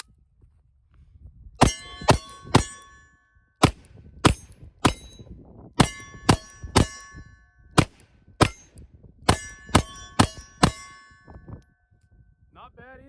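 A Springfield Hellcat Pro pistol fires about sixteen sharp, ringing shots, each with a metallic clang as the rounds strike steel targets, in uneven bursts with short pauses between them.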